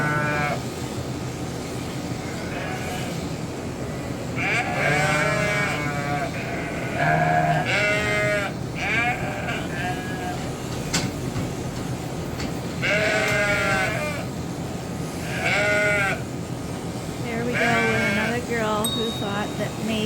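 Many sheep bleat repeatedly in a busy pen on shearing day, cries rising in clusters from different animals near and farther away, over a steady background hum.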